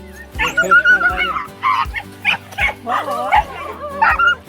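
Puppy trapped in a prickly fence whimpers and yelps in repeated high, wavering cries, close and loud, with a low steady hum underneath.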